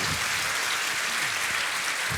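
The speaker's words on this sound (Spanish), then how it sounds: "Vamos a aplaudirlo de nuevo." Dense audience applause at a book launch event, an even wash of clapping sustained for the whole short stretch with no voice on top.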